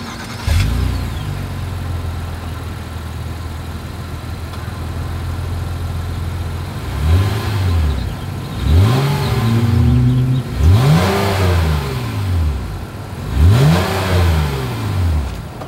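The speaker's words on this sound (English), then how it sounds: "As always, here is that exhaust clip." A 2022 Honda Ridgeline with dual exhaust idles steadily, then is revved four times in quick succession, each rev rising and falling sharply, close and loud with no talking.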